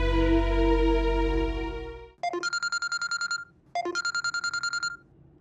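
A telephone rings in a drama scene: a long descending tone fades out, then two bursts of rapid trilling electronic ringing follow with a short pause between them, clear and close with no talk.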